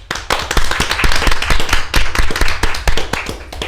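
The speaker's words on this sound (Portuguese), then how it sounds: "quero uma salva de palmas para a gente acabar" A crowd applauds steadily, dense overlapping claps filling the room for several seconds without pause.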